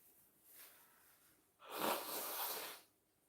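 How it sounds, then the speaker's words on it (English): A person blows their nose in one short, forceful rush of air lasting about a second, preceded by a softer breath, close to the microphone in a quiet room. "I have to blow my nose"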